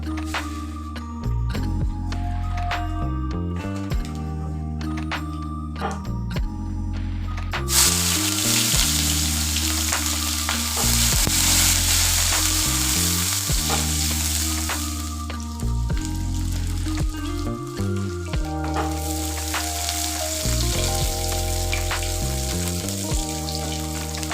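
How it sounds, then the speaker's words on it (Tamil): Mustard seeds, curry leaves and onion fry in hot oil in a kadai for a South Indian banana-flower poriyal. The sizzle is loud and continuous, with popping crackles, and a brief stir partway through. "அதே கடாயில் ஒரு எண்ணெய் ஊற்றி தாளிப்புக்கு தேவையான கடுகு கருவேப்பிலை எல்லாமே அதில் போட்டு வெங்காயமும் அதில் போட்டு சேர்த்து தாளிக்க போகிறேன்."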